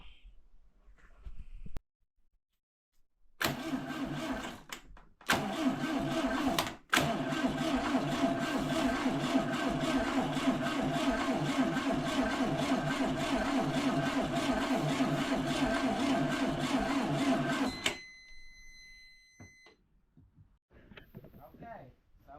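The starter of a 1972 Volkswagen Beetle Domus pickup that has sat for years cranks the engine over steadily and close for about fourteen seconds without catching, then stops, with brief clunks before and after.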